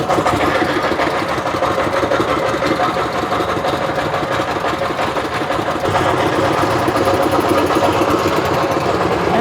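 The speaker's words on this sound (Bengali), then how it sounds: "চালু হয়ে কি শব্দ দুইটা নৌকা একসাথে" Two motorboat engines run together at close range, a loud, steady mechanical drone with a rattling buzz that holds without a break throughout.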